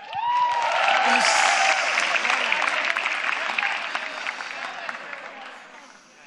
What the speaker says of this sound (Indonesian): Minta tepuk tangannya dulu